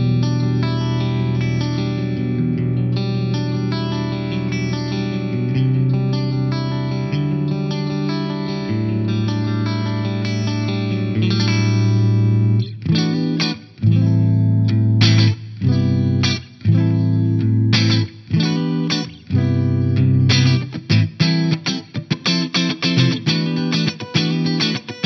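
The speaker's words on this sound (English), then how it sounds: "I've kicked in a Cali 76 by Origin Effects before the preamp." An electric guitar played through an Origin Effects Cali76 compressor into a Kitty Hawk Quattro preamp, with 80s-style tone: sustained chords for about twelve seconds, then choppy staccato riffs with short gaps, loud and alone.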